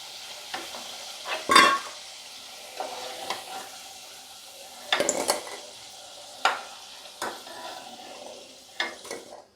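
Potatoes frying in oil in a pan for a raw banana fritter gravy, with a steady soft sizzle broken by several sharp scraping and clinking strokes of a spatula stirring against the pan.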